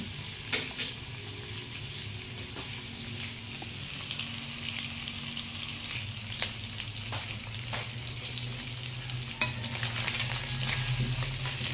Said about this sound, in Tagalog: Hayaan natin na maprito siya ng kaunti.